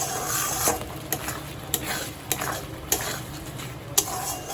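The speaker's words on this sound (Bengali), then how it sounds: "সবগুলো আবার একটু নাড়িয়ে নেব হাই ফ্লেমে। এই মশলাটা যতক্ষণ না অয়েল রিলিজ করছে ততক্ষণ পর্যন্ত কষবো" Spice masala for butter chicken fries over a high flame, a constant sizzle cut by regular sharp scrapes and clinks of a spatula stirring against the pan, close and without speech.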